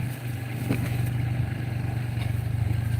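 A motorcycle engine idles and putters steadily up close, with a low throbbing hum and occasional rattling clatter.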